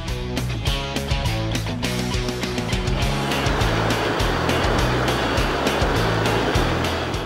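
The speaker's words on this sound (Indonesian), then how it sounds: "Ombak pertama datang, waktunya untuk pop up." Ocean waves roll in at a surf break off Timor, their broad rushing wash swelling and building through the second half after a rhythmic, tonal stretch at the start.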